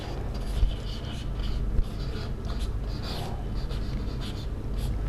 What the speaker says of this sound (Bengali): একটু দেখো, আমি এটা লিখে দিচ্ছি